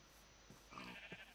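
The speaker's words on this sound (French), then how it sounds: "Revoilà des moutons comme on en a déjà vu précédemment." A sheep in the game Minecraft gives one faint, wavering bleat that lasts about a second and stands alone over a quiet background.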